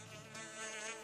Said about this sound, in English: Oh God, bees!